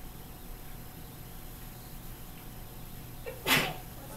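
A single sharp sneeze bursts out near the end, loud and close, after a few seconds of quiet room hiss with a small breath just before.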